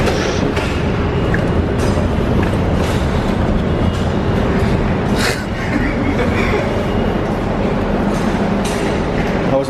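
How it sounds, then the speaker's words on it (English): A New York City subway train rolls along with a dense, loud, continuous rumble and occasional clatter and squeal from the wheels, while people talk faintly over the noise. "We're on the metro. The New York City Metro."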